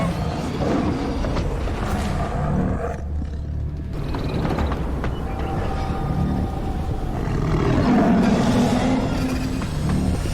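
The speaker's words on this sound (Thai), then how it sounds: "เสียงคำรามนั่นอยู่ไกลมาก" A deep beast roaring, a heavy rumbling growl that swells and fades over a steady, dense background.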